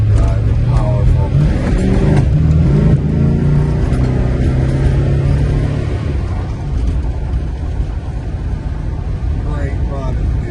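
A 1969 Plymouth Road Runner with a 440 Six Pack V8, not fully warmed up, rumbles steadily and loudly up close, with a deep continuous idle and light revving throughout.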